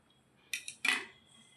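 A pair of scissors snips through a small yarn tassel to trim it to size: two quick close metallic snips, alone and crisp in a quiet room.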